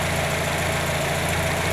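Idling engine of an NA Mazda Miata running on a Megasquirt MS3X ECU, a steady low rumble with even firing pulses, close and loud, with no talking.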